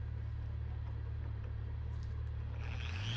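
A machine polisher spins a cleaned foam pad loaded with a few drops of finishing polish, a steady low motor drone running alone and fairly close, rising slightly in pitch near the end as the speed changes.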